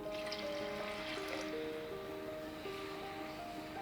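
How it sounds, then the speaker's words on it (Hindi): Water trickles and pours into a pan of sugar syrup for kala gulab jamun, soft and continuous, with a low hum in the background. "अब हम इसमें आधा कप पानी और डाल लेते हैं"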